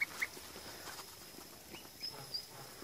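Geese and their goslings call outdoors in a few faint, short honking bursts, spaced apart against quiet background noise.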